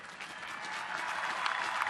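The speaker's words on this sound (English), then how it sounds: "give a great round of applause for the crew of the Sioux City" Dense crowd applause at a US Navy ship commissioning ceremony for USS Sioux City (LCS 11), steady and building slightly into a standing ovation, with many hands clapping at once; no clear voices.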